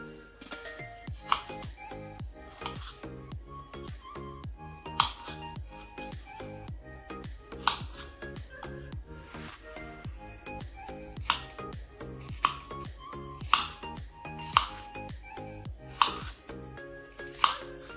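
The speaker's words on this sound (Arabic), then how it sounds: "غادي نكمل تقطيع الخوخ ديالي ونعاودو نرجعو" A knife taps repeatedly against a cutting board while slicing peaches into pieces for a peach and hazelnut magic cake, with steady sharp chops.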